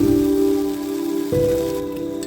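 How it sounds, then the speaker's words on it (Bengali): Ground cashew masala paste dropped into a pan over a very low flame, giving a close, even crackling fry with a steady tonal hum underneath and a brief shift midway as the paste settles. "এবার এই বাটা মশলাটা দিয়ে দিচ্ছি। ফ্লেমটা একদম লোতে আছে।"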